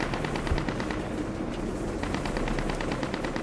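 A light armored vehicle in Squad fires rapid automatic gunfire in steady rhythmic bursts over a constant heavy engine rumble, loud and close.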